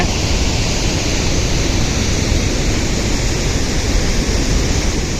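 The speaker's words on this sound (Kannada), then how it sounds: "ಇಲ್ಲಿ ಡ್ಯಾಮ್ನಿಂದ ಇದು ಗೇಟನ್ನು ಓಪನ್ ಮಾಡಿದ್ದಾರೆ ನೀರು ಹರಿದು ಹೋಗ್ತಾ ಇದೆ" Water from the Malaprabha River pours through opened dam gates at a reservoir, a steady, loud broadband roar that holds unbroken throughout with no voices.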